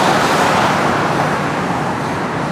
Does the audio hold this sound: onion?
no